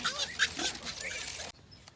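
Pigs and newborn piglets in a consolidated farm pen give off a busy stretch of close grunting and squealing that stops abruptly partway through, leaving a quieter tail with faint background noise.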